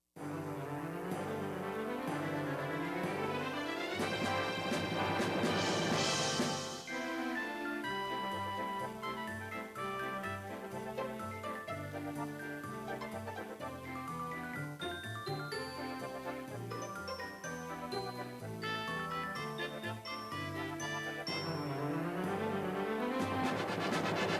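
A Roland Atelier AT60S electronic organ plays a lively Broadway show-tune with full chords, bass and bright melody, a continuous, steady and fairly quiet performance with automated accompaniment.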